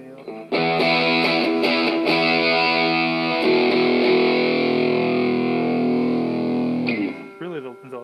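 An electric guitar played through a Fulltone Distortion Pro pedal, a thick fuzzy sustained chord with hard breakup on the bottom end ringing loud for several seconds before cutting off, with a few picked notes after.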